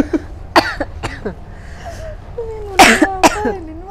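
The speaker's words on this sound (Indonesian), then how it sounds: "Nyambung lah kita pada batuk." A burst of coughing from several people, sharp harsh hacks scattered over a few seconds, with a couple of loud bursts near the end.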